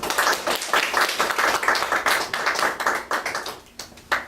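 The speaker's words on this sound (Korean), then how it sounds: "우리 정우식 선교사 박수로 한번 환영하겠습니다" A church congregation claps in welcome for a visiting missionary, a loud, close burst of hand clapping that thins out toward the end.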